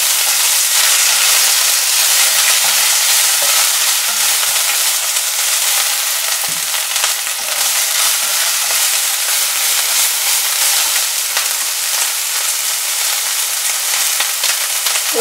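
Green chillies and ginger frying in a pan for aloo paratha, a steady loud sizzle with hiss and crackle that carries on without a break, with no voices.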